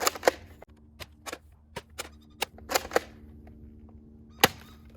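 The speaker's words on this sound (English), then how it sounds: "the Bug Assault fires table salt like shotgun pellets" Sharp bursts from a Bug Assault salt gun firing coarse table salt, several spaced cracks of varying loudness with a louder crack near the end, over a low steady hum.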